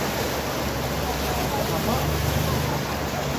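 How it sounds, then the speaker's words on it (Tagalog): Heavy rain pours down during flooding in Jeddah, a dense, loud, steady rush like running water that fills the whole scene without letup. "So, medyo malakas na lakas po yung ulan dito."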